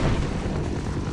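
A grenade blast in the 1998 shooter Half-Life, a loud, dense rumbling boom that fills the whole short moment with low-end roar and no pause.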